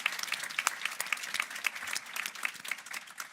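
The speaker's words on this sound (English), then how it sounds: "You deserve an applause, and the people who contribute that are not here deserve an applause. So another one." An audience claps at an annual meeting, a fairly faint, steady patter of many hands heard from a distance with a few sharper claps standing out.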